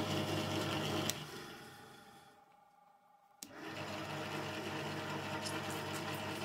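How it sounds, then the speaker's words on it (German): A drill with a 2-4 mm metal bit pre-drills a hole, running in a steady close whine that briefly slows and fades, then spins back up to full speed. "Mit einem 2-4 mm durchmessenden Metallbohrer wird vorgebohrt."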